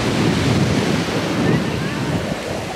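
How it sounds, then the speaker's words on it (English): Strong wind on a beach in Tulum, Mexico buffets steadily and loudly throughout, roaring against the microphone, with surf and water rushing underneath. "It's so windy though."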